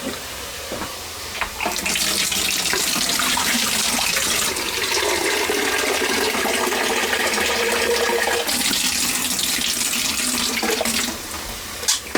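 Water runs from a tap into a kettle, a steady loud rushing stream for several seconds that shifts in tone partway through, nearly alone in a kitchen.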